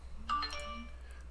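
A phone ringing, a short bright electronic chime of a few quick tones that rings out and fades over about a second, heard alone and fairly quiet.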